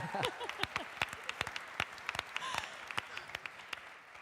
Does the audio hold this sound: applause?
yes